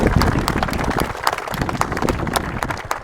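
A crowd at a live stage show claps loudly and energetically, with sharp, rapid, overlapping hand claps forming a continuous burst of applause.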